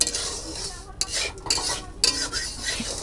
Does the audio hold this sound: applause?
no